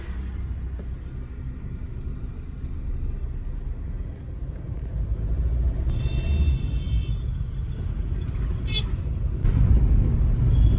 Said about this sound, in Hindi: तो गाड़ी के इंजन में कोई नॉकिंग वगैरह नहीं है इंजेक्टर वगैरह की, स्मूथ आवाज़ है एकदम